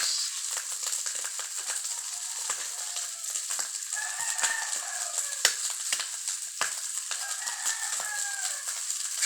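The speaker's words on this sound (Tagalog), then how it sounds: "siyempre lagyan natin ng itlog mga guys." Egg goes into garlic fried rice frying in a pan, giving a close, crackling sizzle with frequent sharp pops that runs steadily, with no voices.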